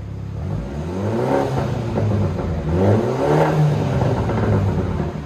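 A straight-piped 2017 BMW 430i with its muffler cut off, revving loudly up and down in two or three rising and falling sweeps, a deep raspy exhaust rumble heard up close with no talking.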